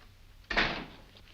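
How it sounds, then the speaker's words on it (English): A door to an alley swings shut in a single soft thud with a short wooden rattle, fairly close and alone in a quiet room, the sound dying away within half a second. "Go outside and close the door."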